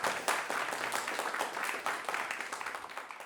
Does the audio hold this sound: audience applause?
yes